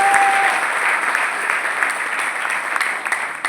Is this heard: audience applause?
yes